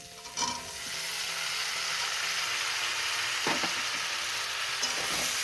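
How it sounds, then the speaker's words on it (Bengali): Fried pumpkin stirred into potatoes and spices in a hot pan gives a steady, close sizzle, with a few soft scrapes of the spoon and no speech. "এবার মশলার সাথে আলুর সাথে কুমড়োটাকে একটু সামান্য কষিয়ে নেব"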